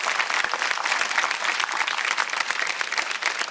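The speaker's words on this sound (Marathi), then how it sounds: "आणि एकदा जोरदार टाळ्या सगळ्या स्त्रियांसाठी झाल्या पाहिजे." A crowd bursts into loud, sustained clapping in honour of all the women at a celebratory television event, the dense applause holding steady with crisp individual claps throughout and no voices over it.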